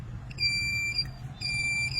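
Multimeter continuity beep while testing a computer power supply fuse: two steady high-pitched electronic tones, the first from about 0.3 to 1 second and the second from about 1.4 seconds to the end, over a low background hum.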